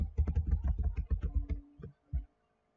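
Computer keyboard keys tapped in a quick run of crisp clicks as shortcut combinations are entered, followed by a couple of separate presses after a short pause, close and alone with no talk.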